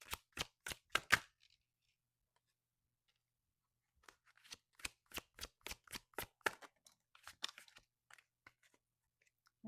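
Tarot cards being shuffled in quick, crisp bursts: a dense run of riffling snaps, a pause of near silence, then a longer stretch of rapid card flicks and slaps, close and clear with no talking.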